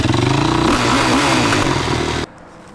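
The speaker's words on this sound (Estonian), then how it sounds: "Mina tulin oma 4-rattalise mootorrattaga." Homemade four-wheeled motorcycle revving hard on an ice track, a loud, gritty engine roar with clattering buzz that holds steady, then cuts off abruptly near the end, leaving quiet background.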